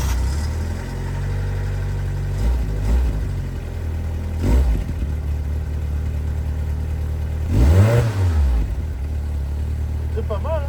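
A Fiat Punto cabriolet engine turns over and idles, with a few brief revs and one stronger rise and fall in engine speed, heard close in a garage setting.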